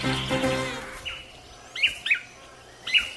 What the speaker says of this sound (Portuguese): Os tangarás estão espalhados por toda a floresta